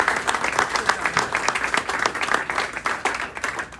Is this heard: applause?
yes